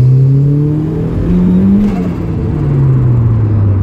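A turbocharged Mazda MX5 pulls hard in second gear on boost, a loud close engine drone that rises steadily in pitch, dips briefly around a shift, and climbs again with a faint whirring over the top.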